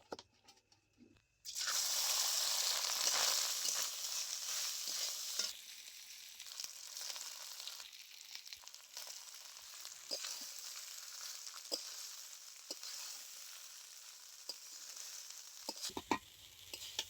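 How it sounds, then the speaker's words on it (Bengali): Loud, steady sizzling as rice hits hot ghee in a wok for fried rice, settling into a softer hiss with occasional scraping stirs; no talking. "এবার আমি রাইসটা কড়াইয়ের মধ্যে দিয়ে দিচ্ছি"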